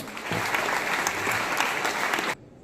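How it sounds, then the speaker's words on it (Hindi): Audience clapping to welcome a guest at a free bicycle distribution event, a dense burst of applause that holds steady for about two seconds and then cuts off abruptly. "ताली बजाकर स्वागत करें"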